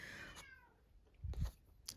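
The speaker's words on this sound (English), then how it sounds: "oh, my cat." A pet cat gives one faint, short meow at the start, followed by quiet indoor rustling and a few soft low thumps.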